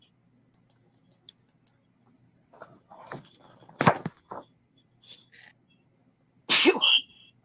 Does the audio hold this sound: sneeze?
yes